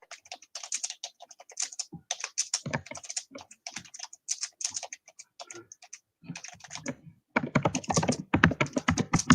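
Rapid clacking of typing on a computer keyboard during a Strat-O-Matic football game, irregular bursts of close, crisp keystrokes that speed up toward the end.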